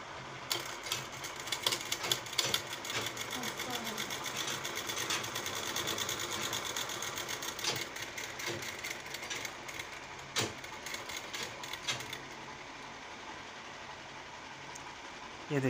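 A large sewing machine with loose lower stitching runs steadily, a close, fast rhythmic whirring and clatter of stitching that goes on for most of the time and then slows near the end.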